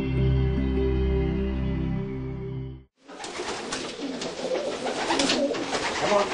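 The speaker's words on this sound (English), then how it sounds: "It's known by various names: messenger dove, homing pigeon," Racing pigeons, also called homing pigeons or messenger doves, coo in a steady, close run of soft calls for the first three seconds, then a brief gap gives way to a busier, noisier loft stretch.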